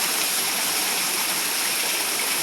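Heavy rain pours down steadily during a nighttime storm in Corpus Christi, Texas, a dense, continuous hiss with no pauses, close and enveloping.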